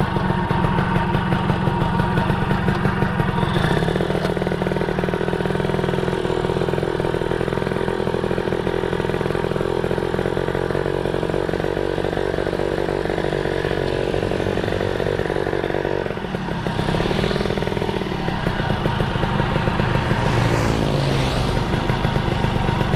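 A Suzuki Satria two-stroke motorcycle engine runs during a ride, a loud, steady buzzing drone that holds throughout and shifts in pitch briefly toward the end.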